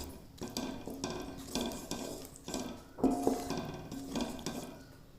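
Mushrooms and chopped stems with mint leaves being stirred through korma gravy in a pan, giving repeated scraping clinks of a utensil against the pan in a steady rhythm, close and moderately loud, with no talking.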